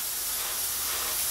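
An airbrush sprays paint into a stencil on a goalie mask, a soft continuous hiss held evenly for a short moment with no talk.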